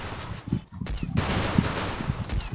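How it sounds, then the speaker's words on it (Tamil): Desert Eagle pistol fire in the Free Fire video game: loud, dense bursts of shots and explosive game noise with a brief gap, heard close and continuous throughout. "அதான் டெசர்ட்டிங்ல வச்சு ஹெட் ஷாட்."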